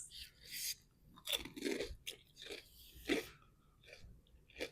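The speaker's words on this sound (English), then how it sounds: "Can you hear the crunch?" Close, crunchy chewing of traditional Chin food, Sabuti with lime, comes in several distinct bites and crunches with breaths between them, fairly quiet and without talk.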